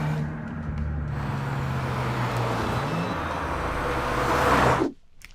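A Subaru WRX, a small all-wheel-drive manual car, drives by with a steady, loud engine and road roar that fills the whole clip before cutting off sharply near the end.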